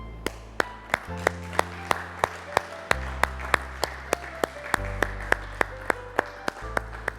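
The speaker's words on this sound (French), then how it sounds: "On t'applaudit" Studio audience on a TV cooking competition claps in a steady, even rhythm, sharp regular beats sitting over a background music track and continuing through the whole stretch.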